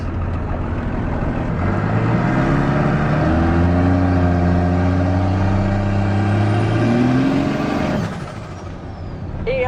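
Truck engine fitted with a hoodstack exhaust revving hard, a loud deep roar climbing in pitch for several seconds before dropping off, with a high whine rising near the end.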